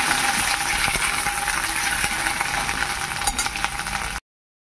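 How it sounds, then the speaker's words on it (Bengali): Ground taro stems fry in oil in a wok, a dense, steady sizzle and crackle close by that stops abruptly near the end. "তেলের মধ্যে এবার দিয়ে দিচ্ছি বেটে রাখা কচুর ডাঁটি। কচুর ডাঁটিটা ভালো করে ভাজা ভাজা করব।"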